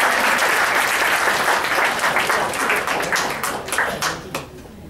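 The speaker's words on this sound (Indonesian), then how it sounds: "Tepuk tangan buat MC kita ya" Enthusiastic applause from an indoor audience at a Q&A session, dense clapping that holds strong for several seconds then thins into scattered claps as it fades out.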